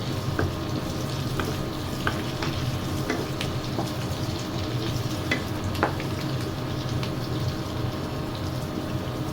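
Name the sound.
garlic sautéing in a pan for humba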